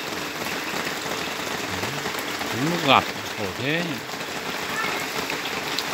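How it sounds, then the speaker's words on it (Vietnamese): Heavy rain pours steadily over a rural highland village during the rice harvest, a dense constant hiss throughout, with someone talking over it. "Hôm nay mưa nhiều quá."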